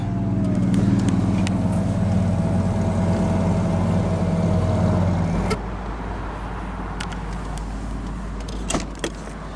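Electric windows and the power convertible top of a 2003 Ford Thunderbird Premium lower with a steady motor hum and whine, then a clunk as the top stops, leaving a quieter idle with faint clicks and latch sounds.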